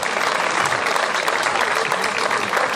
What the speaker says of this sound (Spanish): Forte aplauso para todos eles.